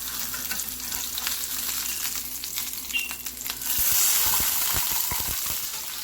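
Salmon sears in a hot pan with a steady crackling sizzle that swells louder after the fillet is turned, punctuated by a few sharp scraping clicks of a spatula.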